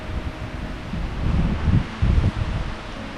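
Gusty wind rumbles and buffets outdoors in the Tobeatic Wilderness Area, Nova Scotia, swelling in low bursts with a rustling hiss, no voices present.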